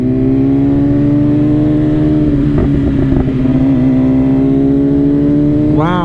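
A BMW M1000RR carbon superbike, already warmed up, idles loudly close by with a steady strong engine drone and a short rev around the middle, then climbs into a sharp rising rev at the end.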